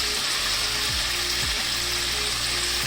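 Chicken frying in a karahi, dhaba style, a steady loud sizzle of hot oil that continues without pause, with occasional scraping sounds from stirring.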